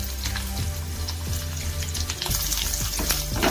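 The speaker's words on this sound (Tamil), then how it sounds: "இப்போ கருவேப்பிலையும் வெங்காயமும் சேர்த்துக்கலாம்" Curry leaves and onions sauté in hot oil for a broad beans tamarind curry, a loud close sizzle with crackling and stirring, swelling sharply partway through as more goes in.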